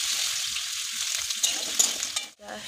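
Food fries in a pan with a loud, continuous sizzle, and a few faint clinks or stirring sounds rise over it before a brief dip near the end.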